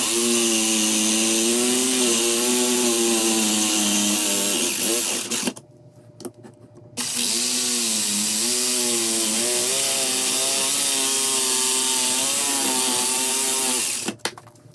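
A power tool cuts out a section of T-track on a drill press fence, a loud sustained whining buzz that wavers in pitch, stops for about a second, then resumes until near the end.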